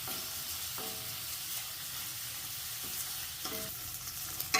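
Green chillies sauté in a pan for okra soup, giving a steady close sizzle of hot oil with occasional stirring scrapes, with no talking.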